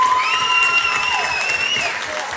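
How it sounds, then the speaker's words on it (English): Audience applause at the Global Battle of the Bands Australasian Finals 2010 rises steadily and fills the hall, dense and even for a couple of seconds, with a bright tone sliding across it and a few faint voices mixed in. "Give them all a round of applause."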